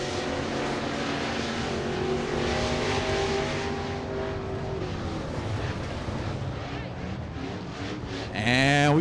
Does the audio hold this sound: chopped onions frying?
no